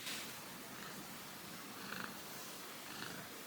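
A cat purrs steadily and softly up close, a low continuous rumble with slight rhythmic swells and no voices over it.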